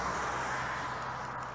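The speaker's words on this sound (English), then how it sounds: "Sorry for the traffic noise, nothing I can do, it's right beside it." Steady broadband road traffic noise from a road right beside a metal-detecting dig site at an old 1920s home, a continuous close wash of passing-vehicle rumble and hiss with no talk.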